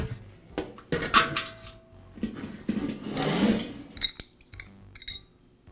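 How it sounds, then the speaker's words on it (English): Metal parts of a Weber grill lid thermometer clink and rattle while a wing nut is unscrewed, with sparse close handling knocks and small scrapes separated by quiet gaps. "Now I can unscrew the wing nut to release the thermometer"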